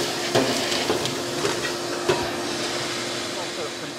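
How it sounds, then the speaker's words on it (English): A vacuum cleaner drones steadily with a constant motor whine, broken by a few sharp knocks and clatters, while cleaning out a clothes dryer being repaired for a metal scraping noise. "we're going to go ahead and vacuum that all out and get it all cleaned up"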